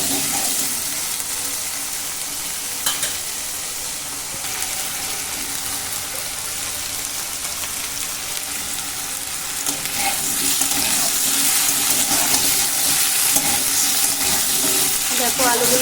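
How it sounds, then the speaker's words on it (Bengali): Potatoes frying in hot oil after paneer has been fried in the same oil, a continuous loud sizzle that swells toward the end, with occasional stirring and no talk. "এখন এই তেলের মধ্যে আবার আলুগুলো ভেজে নেব"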